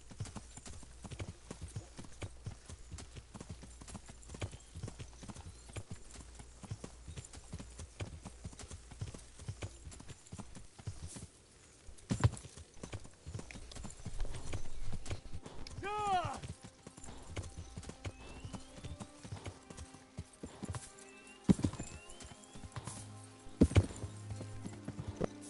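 Horse hooves clip-clop steadily in the video game Kingdom Come Deliverance, a rhythmic trotting under frequent talking, with a brief whinny partway through.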